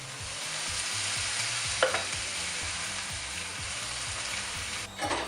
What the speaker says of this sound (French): vous pouvez ajouter 5 cl de vinaigre de cidre pour pouvoir les déglacer